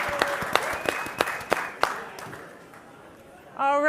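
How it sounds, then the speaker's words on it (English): An afternoon session audience at a business conference claps for about two seconds, a sparse burst of applause that thins out, and a voice starts speaking at the end. "go ahead, clap it up."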